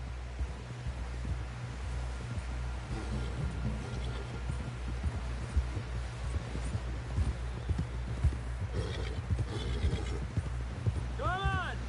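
Horse hooves clip-clopping at a steady gallop in the Red Dead Redemption 2 video game, with an occasional whinny, under continuous wind noise and game music; voices talk over it.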